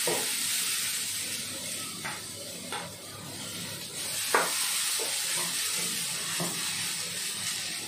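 Ghee heating in a kadhai while modak filling is prepared, a steady soft sizzle and hiss with occasional light clinks and stirring taps, close and fairly quiet.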